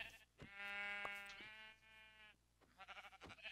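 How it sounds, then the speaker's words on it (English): Sheep in the Minecraft video game bleating close up, two drawn-out wavering bleats with a short gap and a fainter third call at the end, over a quiet background. "Oh, I found enough sheep."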